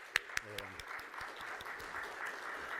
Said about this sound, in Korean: 우리 다 같이 하나님께 영광의 박수 돌리도록 하겠습니다